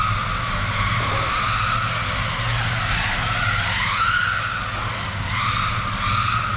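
An RC car's brushless motor whines under steady load, rising and falling in short bursts of throttle over a constant rushing background roar, loud and close with no talking.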